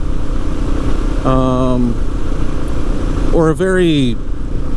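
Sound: motorcycle riding with throttle assist

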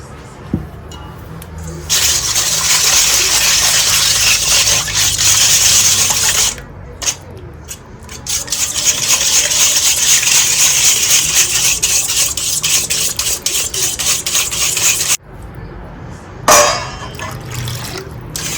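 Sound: pouring melted fat into egg mixture and stirring quickly

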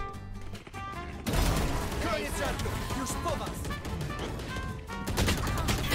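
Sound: gunshots in Valorant video game

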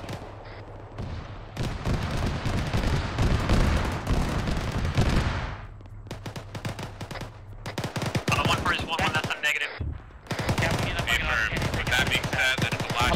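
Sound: gunfire in ArmA 3 video game

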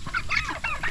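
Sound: goose honking

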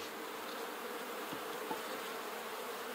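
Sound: honey bees buzzing at hive

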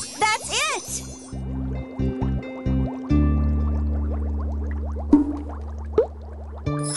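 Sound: rainbow water added to a cauldron in a video game

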